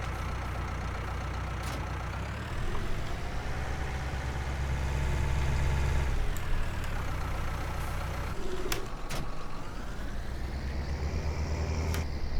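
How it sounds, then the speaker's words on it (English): A John Deere tractor towing a trailer in a farming video game, its steady mid-pitched engine drone running continuously, rising slightly in load partway through, with no talking. "I'll just put the John Deere tractor on this trailer"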